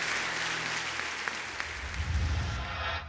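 Church congregation applauds strongly during a Spanish-language sermon, steady moderate clapping filling the room with a low rumble underneath, no talk.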